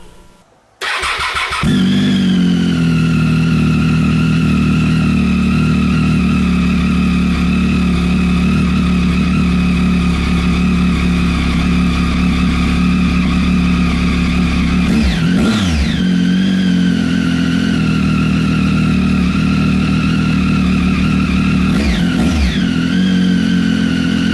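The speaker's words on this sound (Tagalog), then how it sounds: "The sound of the bike reminds me of the Yamaha R1" A loud V-twin motorcycle engine idles and rumbles steadily, with two sharp throttle blips that rev up and fall back midway and near the end.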